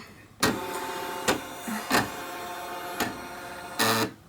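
Viking Jade 35 sewing and embroidery machine repositioning its embroidery hoop at startup: a short series of separate mechanical whirs and clicks, about six bursts spaced irregularly, close and moderately loud with no talking.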